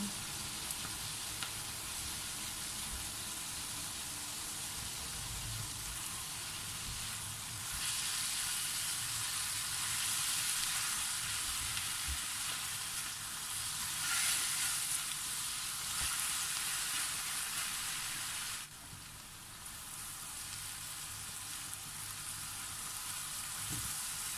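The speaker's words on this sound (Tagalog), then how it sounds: "ituloy lamang po natin ang ating paggisa hanggang sa lumabas ang aroma ng ating sibuyas at saka yung bawang" Garlic and onion sauté in a pan in a home kitchen, giving a steady, close sizzling hiss that holds for the whole stretch with slight swells in loudness and no talk over it.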